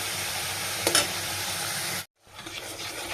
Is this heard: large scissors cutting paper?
no